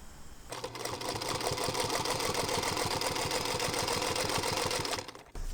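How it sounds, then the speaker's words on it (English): A sewing machine runs steadily for about five seconds, a fast even mechanical chatter of needle strokes while top stitching a shirt's collar stand, close and alone, stopping abruptly at the end. "I'm just going to top stitch this closed."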